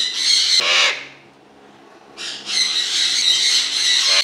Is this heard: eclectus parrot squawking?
yes